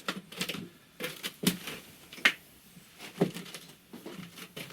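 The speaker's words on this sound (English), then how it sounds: "So we remove the coin acceptor." A coin acceptor being taken out of a Cavalier CS-96a Coca-Cola vending machine, with scattered close metallic clicks and clunks in an irregular rhythm, all fairly quiet.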